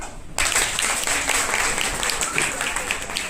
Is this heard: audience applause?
yes